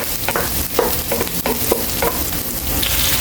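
Onion and garlic sauté in a hot pan, giving a continuous close sizzle with scattered crackles and soft stirring scrapes throughout.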